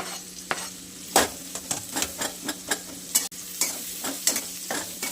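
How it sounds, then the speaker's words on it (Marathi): Onion dropped into hot oil in a home kitchen while garlic and green chillies fry for a wet chickpea chutney, giving a steady close sizzle broken by repeated sharp stirring scrapes and clatters. "आणि आता आपण कांदा टाकून घेणार आहे"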